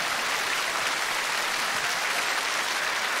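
Studio audience at a Korean national TV singing contest's 21st-anniversary special breaks into steady, dense applause that fills the whole stretch evenly, with no voices over it.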